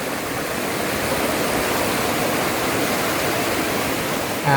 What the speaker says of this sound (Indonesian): sungai yang deras dengan aliran air yang deras